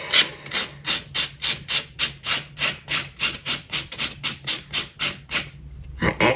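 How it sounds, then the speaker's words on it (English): Sandpaper rubbed back and forth along the edge of a paper lapbook, a steady run of about fifteen close, even rasping strokes, fairly loud and alone, ending with a brief handling bump. "now I need to grab some sandpaper to just try a little bit to make that edge a little more crisp"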